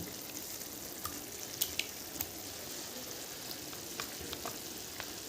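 Chicken sizzles steadily in hot oil as sour yogurt goes in and is stirred, with a constant crackling hiss and a few sharper clinks and scrapes from the spoon.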